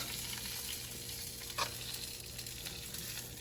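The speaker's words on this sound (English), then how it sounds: "I'm gonna mix all of this back in." A beef mixture is stirred in a frying pan for a beef croissant filling, with a steady close sizzle, soft scraping of the utensil and one brief louder clank partway through, with no voices.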